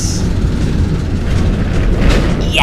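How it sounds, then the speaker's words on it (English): Loud, steady rumble of passing road traffic, a truck and cars going by close, sustained throughout with a brief higher whoosh near the end. "You want to make sure you get those loud traffic sounds because he got scared."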